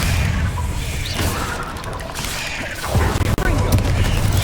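Confringo spell explosions in Hogwarts Legacy, booming blasts and crackling impacts layered in loud continuous combat noise, with a sharper burst late on.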